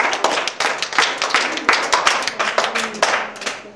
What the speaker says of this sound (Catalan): Molt bé, fem un fort aplaudiment.